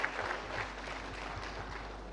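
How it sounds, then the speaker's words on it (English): A crowd at a UNICEF community celebration claps for the children, a faint, diffuse patter of applause with a low steady hum beneath and no voices. "Let's give all the children a round of applause."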